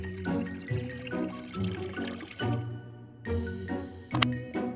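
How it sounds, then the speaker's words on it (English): Water poured into a craft bottle in a close, steady gurgling stream with a few short pauses and light tinkles of liquid against the container, no voices. "Let's fill our lovely bottle with water."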